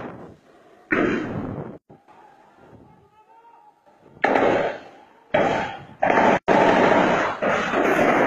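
Gunshots ring out at the home of Nnamdi Kanu in Nigeria: several loud, sharp bangs with echoing tails come at irregular intervals, separated by quieter stretches with faint voices.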